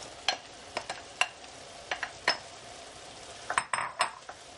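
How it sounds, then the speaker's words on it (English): A large chopped onion goes into beef browning in its juices for marjoram noodles, with a steady low sizzle under a string of sharp spoon-on-pan clinks and stirring scrapes, near and fairly quiet. "And now I'm going to add one very large onion that I've chopped."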